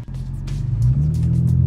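BMW E46 with an automatic Steptronic gearbox and retrofitted paddle shifters pulls away on a road drive, its engine rumbling low and climbing steadily in pitch as it accelerates, heard from inside the car.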